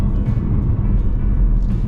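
Car cruising along a motorway early in the morning, a steady loud low road and engine rumble filling the cabin with constant tyre roar and no talking.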